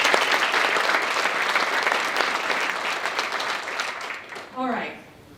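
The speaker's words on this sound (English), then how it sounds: "So a round of applause for those folks too." Audience at a community general meeting applauding, a dense burst of clapping that fills the room, then thins and fades as a voice begins speaking at the end.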